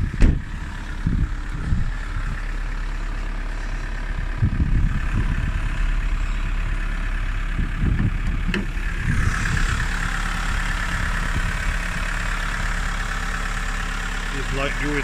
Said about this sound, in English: Sounds nice as well. Turbo diesel.